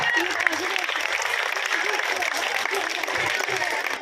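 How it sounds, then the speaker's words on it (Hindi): Students clap together at a school farewell ceremony for fifth and seventh graders, a steady, dense patter of applause filling the room throughout, with voices murmuring underneath. "जोरदार तालियां।"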